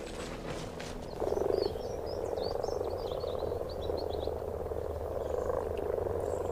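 Many frogs croak together at a pond in spring, a dense continuous chorus of overlapping calls with birdsong above, a louder close croak burst near the start.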